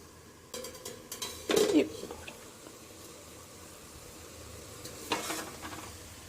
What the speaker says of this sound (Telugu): ఆకుకూర ఆకుకూర కూడా బాగా ఫ్రై అయిపోయింది